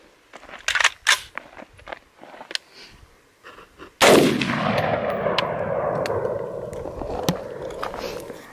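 A loud 5.56 full metal jacket rifle shot from an AR pistol fired at homemade armor: one sharp, close blast with a long echoing decay, after some quieter handling clicks and knocks.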